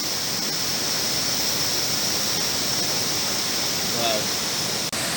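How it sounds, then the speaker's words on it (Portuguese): Cachoeira do Encontro waterfall in Minas Gerais, Brazil, a steady broadband rush of falling water, fairly soft and constant, with a brief voice near the end. "Cachoeira do Encontro."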